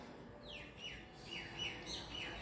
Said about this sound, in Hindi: ये देखें काफ़ी सारे कबूतर आके सुबह सुबह अपना दाना जो है अपने हिस्से का